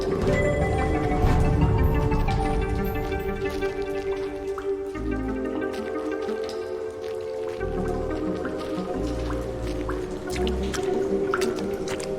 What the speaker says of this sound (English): It controls the direction and flow of water through the pipes.